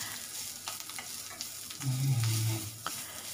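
Food fries in oil in a pan, giving a steady sizzle broken by scattered scraping stir strokes and a brief low hum partway through.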